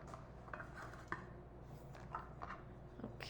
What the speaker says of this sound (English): you can actually cut them in halves